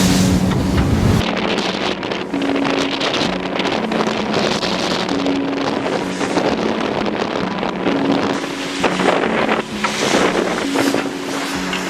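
Loud, constant wind gusting to 30 knots roars across the microphone aboard a sailboat among icebergs off Greenland, with rushing water and a low hum persisting throughout.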